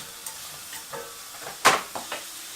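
Chopped ingredients for a chicken curry sizzle softly in a frying pan, a steady low hiss broken by a few stirring scrapes and one sharper clatter, close and without talk.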